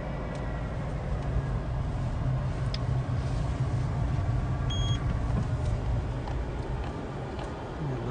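A Peugeot 206 engine idles with a steady low rumble while stopped, running roughly and shaking because of a catalytic converter and anti-pollution fault, heard from inside the car.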